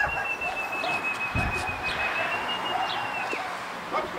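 Racing pigeons arrive at a loft after a club race flight in Gdynia Chylonia, with soft coos and scattered chirps. A thin, steady whistling tone runs through the outdoor background hiss.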